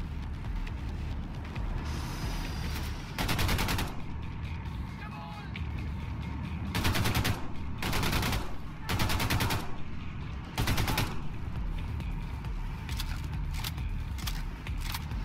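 Gunfire from the video game Wolfenstein 2: The New Colossus: several loud, short bursts stand out at irregular intervals over a constant mix of game background noise.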